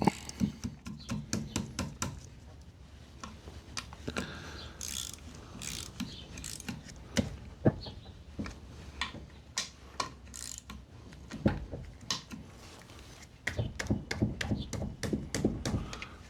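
A ratchet on a Honda Acty E07A engine clicks in quick bursts as bolts are snugged evenly, with rapid ticking runs, metallic taps and brief pauses between strokes, recorded up close in a quiet workshop.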